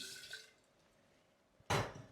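Water, 70 ml, poured onto 50 grams of rice mixed with calcium carbonate and gypsum, a short loud gush near the end after a quiet stretch with faint liquid trickle at the start.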